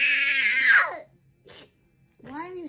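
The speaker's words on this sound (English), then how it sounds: "Why are you screaming?" A young boy screams loudly and shrilly at home, one long wailing scream followed by short bursts of upset cries with silent gaps between them.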